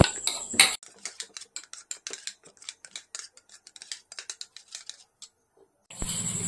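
A spoon clinks and taps against a bowl while tomato sauce and Kashmiri chili powder are stirred together for spicy veg pasta, a quick, irregular series of light metallic ticks heard up close.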